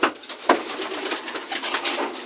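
Racing pigeons coo softly and continuously inside a loft, a murmur of overlapping throaty calls close by with no voices.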